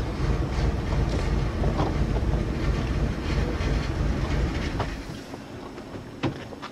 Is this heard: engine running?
yes